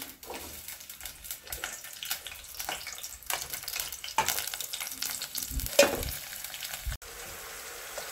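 Brinjal and tomato curry frying in oil, a moderate uneven sizzle broken by stirring scrapes and occasional louder clatters, with no voices.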